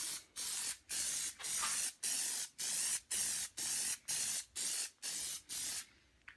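An aerosol can of rubber coating sprays onto car mirrors in a run of about a dozen short, even hissing bursts with brief gaps between, close and steady.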